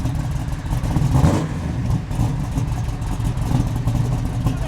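A 1968 Pontiac Firebird's engine revs hard while accelerating through the gears, a loud, continuous mid-pitched roar that swells briefly near the start and stays strong throughout, with no talking.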